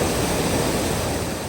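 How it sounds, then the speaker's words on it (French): Ras-el-Ma spring waterfall in Chefchaouen in the rain, a loud, constant, close roar of rushing water with no voices. "C'est la cascade, ça s'appelle la source."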